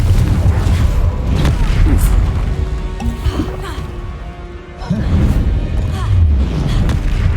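A Confringo fire spell explodes during combat in Hogwarts Legacy. Deep booming bursts and crackling impacts rise over a busy background of game effects, and a voice speaks at times.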